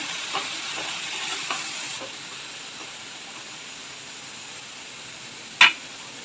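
Vegetables with finely chopped tomato frying in a pan for bread pizza topping, a soft hissing sizzle with a few light stirring taps and one sharp clink near the end.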